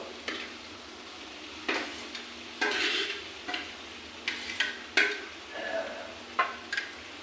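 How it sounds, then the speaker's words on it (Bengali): Taro pieces are stirred into a fried spice paste in a pan, giving a soft background sizzle broken by a series of sharp, close scraping stir strokes at an uneven pace. "কচুটা মশলার সঙ্গে মিশিয়ে দেবো"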